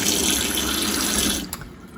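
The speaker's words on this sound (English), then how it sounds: "Rinse off the soap." Running tap water splashes steadily over a knife as soap is rinsed from the blade, close and continuous for about a second and a half before it cuts off with a small clink.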